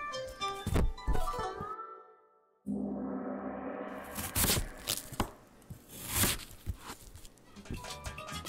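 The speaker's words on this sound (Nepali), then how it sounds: "मुलालाई पनि राम्ररी पखाल्नुहोस् र मसिनो गरी काट्नुहोस्।" A knife finely chops washed radish on a board for a Nepali-style mutton and radish curry. The strikes come close and irregular, with a brief pause midway before the chopping resumes.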